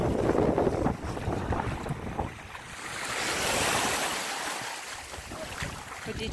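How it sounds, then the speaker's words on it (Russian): Pacific Ocean waves at Makaha Beach on Oahu: a loud, continuous roar of surf washing in and swelling, with strong wind buffeting the microphone throughout. "Вот поснимаю просто океан, нашу семью."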